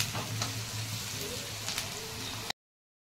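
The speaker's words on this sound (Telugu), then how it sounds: "ఈ టైం పడుతుంది ఉల్లిపాయ ఫ్రై కావడానికి." Onions fry in a pan for an easy chicken curry, a steady soft crackling sizzle with a few sharper pops, close but fairly quiet, cutting off abruptly near the end.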